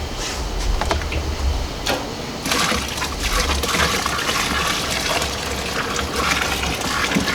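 Steady rushing water pours continuously into a brewing pot, 3.5 gallons of reverse osmosis water, a broad hissing gush with brief pauses and some low rumbling underneath.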